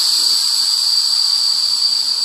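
Compressed air vents from a KTM bladder shock as a loud, steady, high-pitched hiss with a whistling tone that continues unbroken.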